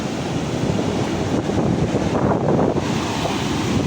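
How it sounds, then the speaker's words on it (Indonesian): Rough, heavy surf breaking near a shore where beginners learn surfing and body surfing, a steady loud roar of crashing water mixed with gusting wind buffeting the microphone. "Ombak juga sudah terlalu ngamuk."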